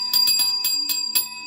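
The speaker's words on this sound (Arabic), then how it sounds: "رن الجرس" Bell rung repeatedly during a live home cooking stream, about six quick bright rings in an uneven rhythm, close and fairly loud, with a low kitchen hum beneath.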